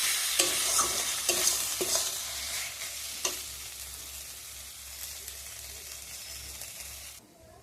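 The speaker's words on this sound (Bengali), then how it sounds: "এবার মশলাটাকে ভালোভাবে কষাবো।" Spice masala for chicken curry sizzles steadily in a pan while a spoon scrapes and stirs it at a few sharp moments early on, then the frying settles to a constant hiss before cutting off.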